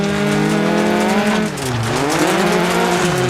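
Loud, strained engine note of a Peugeot 205 T16 rally car in Dirt Rally 2.0, pitch sliding down then climbing again as it powers through a corner, with gritty tire noise.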